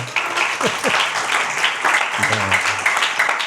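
A crowd claps steadily for a few seconds, a dense wash of applause with voices calling out over it.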